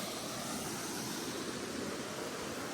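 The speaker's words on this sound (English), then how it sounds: "A waterfall." A waterfall pours into Kent Pond along the Appalachian Trail, giving a loud, steady, broadband roar that holds constant throughout with no voices.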